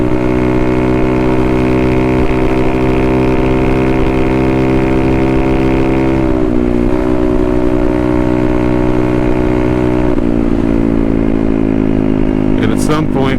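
A Honda Navi scooter engine, fitted with an aftermarket carburetor kit, drones steadily at full throttle, a loud continuous buzzing tone that wavers slightly in pitch with wind noise throughout.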